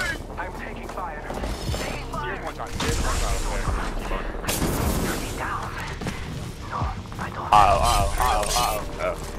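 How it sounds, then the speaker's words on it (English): Gunfire and booming explosions from the video game Apex Legends on Xbox Series X rumble throughout, mostly masked by players talking excitedly over the top. "I'm taking fire"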